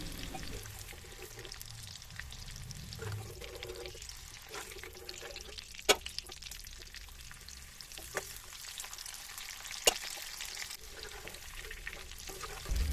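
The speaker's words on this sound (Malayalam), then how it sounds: "ബാക്കിയുള്ള മാങ്ങ ഞാൻ ഇതുപോലെ തന്നെ പൊരിച്ചെടുക്കുന്നുണ്ട്" Raw mango pieces deep-frying in hot oil, a steady soft crackling sizzle throughout with a few faint stirring taps and two sharp clicks, close and fairly quiet, no talk.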